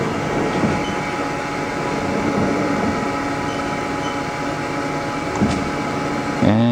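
A 2009 Haas TL-2 CNC toolroom lathe, 16 by 48 inch, rapid-traverses along its Z axis with a steady mechanical whir and rumble that holds throughout, with a brief tonal shift at the very end.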